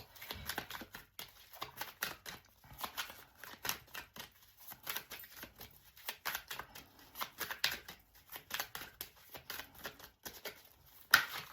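Tarot cards are shuffled in quick, repeated riffling bursts during a pick-a-card reading, soft and close, with short pauses between runs and no talking.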